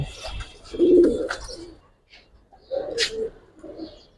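Pigeons give low, rounded coos in two short bursts separated by a brief quiet gap, close by, with some faint handling noise around them.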